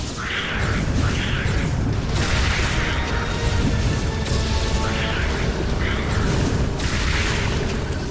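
In the video game Metroid: Other M, missiles fire and blasts go off repeatedly as a battle plays out, with bursts recurring every second or two over a dense, continuous rumble of combat noise.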